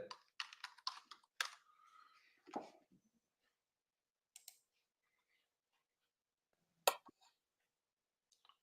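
A computer keyboard is typed on in short clusters of quiet key clicks, with a flurry at the start, then scattered single taps separated by long silent gaps.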